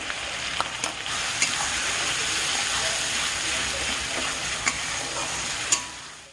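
Onion paste frying in oil for jackfruit kurma biryani, a steady loud sizzle with occasional small crackles and ticks of stirring, no talk.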